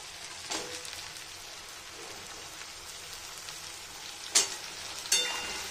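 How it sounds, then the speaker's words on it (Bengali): Potatoes frying with onions in a pan for a home-style achar curry, a steady broadband sizzle with occasional louder spatters and pops near the end, no voices. "পেঁয়াজের সঙ্গে আলুটা ভালো করে লাল লাল মতন করে ভেজে দেব।"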